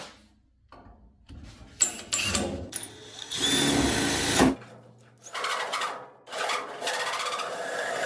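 A 2.5 inch hole saw bores through the dash of a 1967-72 Chevy/GMC C10 pickup, giving bursts of grinding, rasping cutting that stop and restart, fairly close, with a brief heavy spell midway and no talk.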